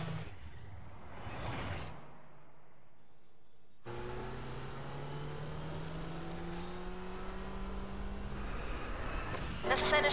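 Race car accelerating in The Crew, engine revving up with rising pitch across gear changes, loud and close after a brief lull, with a voice talking over it.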